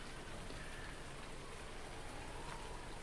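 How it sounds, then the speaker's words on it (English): Steady, dense rain fills the scene in Farming Simulator 19 on PlayStation 4, set on the Felsbrunn map: an even, continuous hiss of falling drops with no breaks and no voices. "since it's raining"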